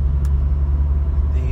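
A Porsche 944 engine runs steadily while driving, with a deep, constant low rumble and a mid-range motor hum filling the cabin throughout.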